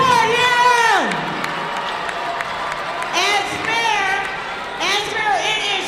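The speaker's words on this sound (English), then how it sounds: "Give us another round of applause." A crowd at the opening ceremony of the Silver Sticks youth hockey finals in Port Huron cheers, with shrill whoops and children's shouts rising in bursts over a steady crowd roar and some clapping.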